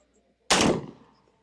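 A single loud, close gunshot fired at a Cybertruck, a sharp broadband blast with a short decaying tail that fades within a second, otherwise quiet around it.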